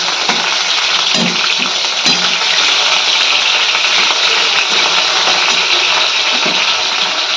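Fish frying in a pan of hot oil gives a steady, dense sizzle with faint crackles throughout, close and loud, with no talking.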